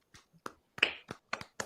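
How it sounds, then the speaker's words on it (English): A few soft, separate claps spaced irregularly over under two seconds, dry and close, with no talk. "Now, Craig clapping."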